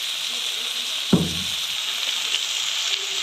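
Coriander and turmeric roasting in a pan with oil, cooking for an arbi leaf kadhi. A steady close sizzling hiss is broken once by a single dull knock of a spoon against the pan.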